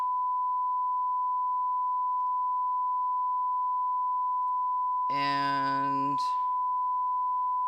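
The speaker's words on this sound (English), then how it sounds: "I'm going to try and transmit all the tones." Synthesized audio tones sent through a homemade lightwave transmitter rig: a steady pure tone holds throughout, then a loud harmonic-rich burst stacked with bright tones rises for about a second near the end before a short rising chirp.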